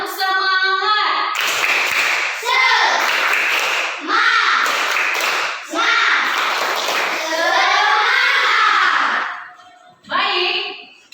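Schoolchildren doing a rhythmic spirit clap, a loud group chant in repeated shouted phrases with claps mixed in, close and energetic, ending in a short final burst.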